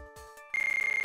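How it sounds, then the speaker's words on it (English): A small staff on the ground in the Phoenix Wright: Trials and Tribulations game rings with a steady, bright electronic trilling tone, rapid pulsing ring after a couple of short soft blips. "Wait, the little staff on the ground is ringing?"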